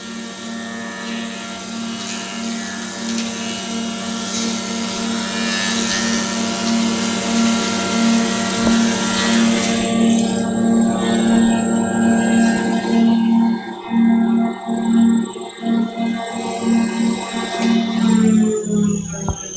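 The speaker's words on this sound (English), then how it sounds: "we're running a little piece of crown molding on this machine" A Profimat 50 moulding machine running a piece of crown molding, a loud steady mechanical whine with a strong hum, then the cutting sound breaks into rougher, fluctuating bursts as the piece feeds through.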